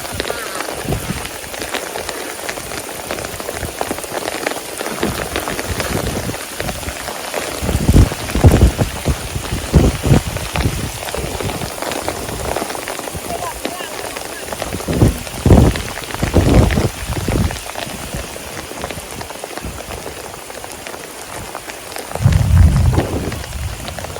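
Heavy rain pours over a rice field in a continuous loud, dense patter, with deeper rumbling swells and thuds rising and falling throughout.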